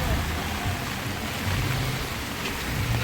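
Heavy rain pours down steadily at Lonavala near a dam, a dense continuous wash of drops with a low rumble underneath, close and unbroken throughout.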